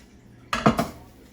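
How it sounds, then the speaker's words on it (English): Chicken curry stirred in a pot, a single quick clatter of a utensil scraping and knocking against the metal after a quiet moment, then fading. "I'll stir it for a minute"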